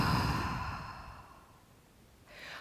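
A slow, deep exhalation like a long sigh, close and soft, fading out over about two seconds before a new breath begins, as a labour breathing pattern.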